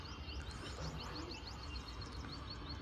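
Satin pigeons kept in a cage coo and chirp in a steady, busy stream of close bird calls over a constant background hum, with no talking.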